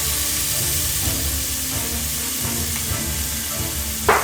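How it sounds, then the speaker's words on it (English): Haitian épis seasoning mixture frying in olive oil, a loud, steady sizzle and hiss throughout with light stirring and a sharp spatter at the end. "let's mix it a little bit just so it can fry up"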